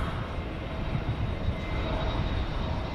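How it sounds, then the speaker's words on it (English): American Airlines Airbus A321neo flying past at night, a steady broadband roar of jet engines heard at a distance, holding an even level with no voices. "Appearing in the foreground momentarily will be American 2458 from San Diego, California, and Airbus A321neo"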